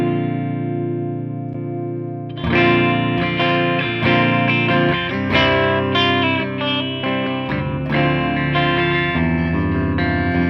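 An electric guitar plays through a Revv Generator 100P amp on the clean channel with the bright switch on, sustained chords ringing clearly, growing louder and busier after a couple of seconds, with no talking.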